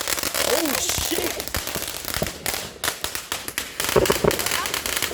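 Backyard Fourth of July fireworks crackle and pop in dense, rapid bursts close by, loud and continuous, while people talk and exclaim over them.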